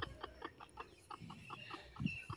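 A native (deshi) hen clucks in a string of short, evenly spaced calls, fairly close and moderately loud, with faint background noise and no speech.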